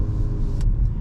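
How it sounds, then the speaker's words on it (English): A Mercedes C 300 4MATIC in Sport Plus mode gives a deep, steady engine rumble with a synthetic sound note, heard from inside the cabin during a brief burst of driving. "we also have the artificial sound when we are in Sport Plus"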